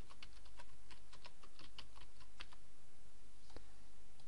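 Rapid keystrokes on a computer keyboard typing a search, an irregular run of light clicks and taps over steady low hum, close and fairly quiet.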